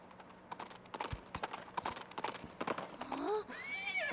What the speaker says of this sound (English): The horse is alive!